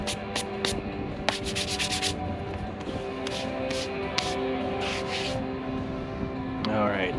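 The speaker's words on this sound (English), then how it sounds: "find some of the finer sandpaper and brush up with that" Repeated short scrubbing strokes of fine 400-grit sandpaper, close and crisp in quick bursts with brief pauses, while someone talks quietly underneath.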